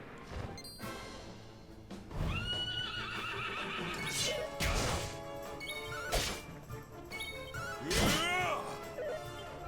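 A fire horse from Dragon Quest XI S neighs and whinnies loudly amid crashing, whacking game sound effects, several calls over a busy battle-like backdrop.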